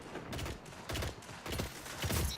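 Rapid bursts of gunfire in the shooter game Destiny 2, four loud volleys in quick succession with short gaps between them, each burst sharp and close, with no voices over them.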